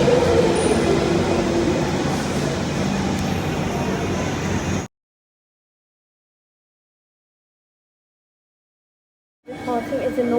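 London Underground Northern Line train departing: a steady, loud rumble of wheels and motors that cuts off abruptly midway, then the rumble returns near the end.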